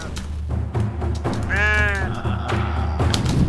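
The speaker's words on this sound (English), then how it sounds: "A minute of silence for all the sheep who bravely were sacrificed by the shaman to set the island free" A sheep bleats in a pixel-style Ludum Dare game, one clear wavering bleat standing out over steady game music and thumps.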